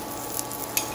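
A garlic cheese paratha fries in ghee on a hot pan, giving a steady close crackling sizzle with a couple of faint scraping ticks.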